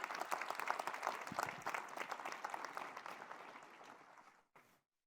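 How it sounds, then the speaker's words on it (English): A university audience breaks into sustained applause, dense clapping that gradually thins and fades before a last brief flurry and then silence. "So how about a round of applause for them?"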